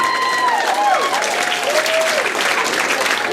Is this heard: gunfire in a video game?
no